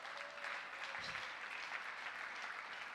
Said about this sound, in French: Est-ce qu'on peut acclamer pour le roi des rois?